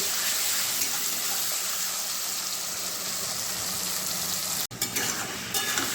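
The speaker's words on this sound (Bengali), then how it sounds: "লঙ্কার গুঁড়ো জিরে গুঁড়ো খুব ভালোভাবে কষিয়ে নেব" Chili and cumin powder are stir-fried in a pan with a loud, steady hiss of frying. The sound cuts out briefly near the end, then picks back up.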